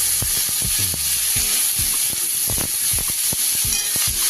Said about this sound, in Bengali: দিয়ে একটু নাড়িয়ে নেব ভালো করে।